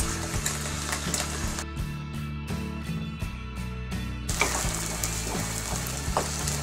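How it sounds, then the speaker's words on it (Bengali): Garlic frying in oil for a one-clove garlic pickle, a continuous close sizzle broken by scraping and clinking stirs of the pan. "একটু নেড়ে চেড়ে দেব রসুনটাকে।"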